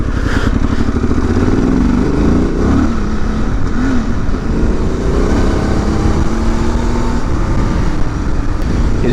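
Honda Transalp 750 motorcycle ridden off-road, its engine droning loud and close throughout with rising and falling revs and rattling clatter over rough ground.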